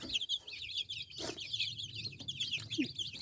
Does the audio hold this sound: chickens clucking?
yes